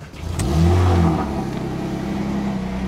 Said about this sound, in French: On va démarrer la GT3